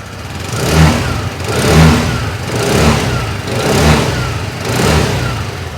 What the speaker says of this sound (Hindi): सबसे पहले आप इसके इंजन और एग्जॉस्ट के साउंड को चेकआउट करा देता हूँ।